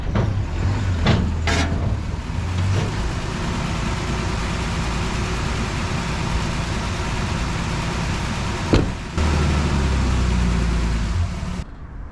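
A neglected 1954 Plymouth Savoy runs with a steady, loud low engine drone throughout, a brief break near the end, and then the engine rumbles on again at close range.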